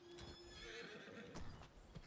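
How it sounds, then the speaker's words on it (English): Horse hooves clip-clopping in Skyrim with a horse animation mod, a quick run of hoof steps with a whinny, heard close over a steady game ambience with no talk. "For the horse footsteps were more loud"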